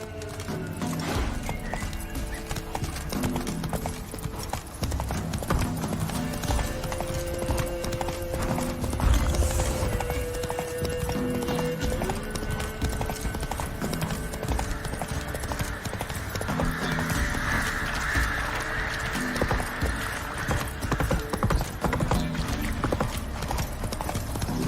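Geralt's horse Roach in The Witcher 3, hooves clopping steadily over the ground for a long stretch, close and prominent over layered game music and ambience, with an occasional whinny.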